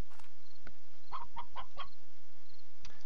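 Chickens cluck in short, bright bursts in the video game Slime Rancher, a rapid cluster of sharp clucks near the middle with a few scattered ones before and after, close and clear.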